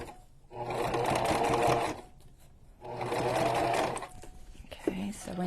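Two bursts of a sewing machine stitching a journal cover, each lasting about one and a half seconds with a pause between, close and moderately loud, followed by a brief clatter at the end.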